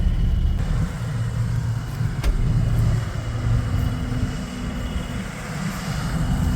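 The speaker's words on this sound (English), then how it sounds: "Try and get some shelter from the wind behind the truck, but it's still kind of coming underneath the truck" Wind gusting underneath a parked truck in an open harvest field, a steady low roaring buffet that swells and eases throughout, loud and close, with no one talking.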